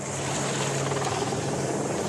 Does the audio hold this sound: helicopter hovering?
yes